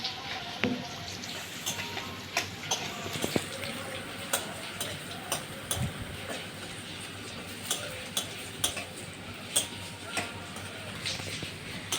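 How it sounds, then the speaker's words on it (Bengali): Red amaranth and drumstick leaves fry with garlic and green chili over a gas flame, giving a soft, steady sizzle dotted with sharp, evenly spaced ticks and crackles at a fairly low level. "সেই সজনা শাক আর লাল শাক দুটো একসাথে মিলিয়ে আজকে রসুন ফোড়ন দিয়ে কাঁচা লঙ্কা ফোড়ন দিয়ে আজকে ভাজছি"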